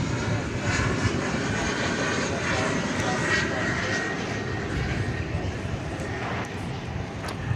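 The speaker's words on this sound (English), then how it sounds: "a Qantas 747 is coming our way" A Qantas Boeing 747-400 arriving from Anchorage approaches DFW Airport, its broad, steady jet roar filling the air at constant loudness, with some voices in the background.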